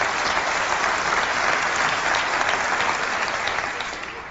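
A large keynote crowd at Macworld New York 1998 claps loudly and steadily, the dense applause filling the hall before fading slightly at the end.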